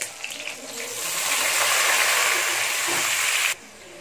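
Sliced onions dropped into hot oil already crackling with mustard seeds, cumin and fenugreek for a Tamil kara kuzhambu, giving a loud, steady sizzling hiss that holds for a few seconds and then cuts off abruptly.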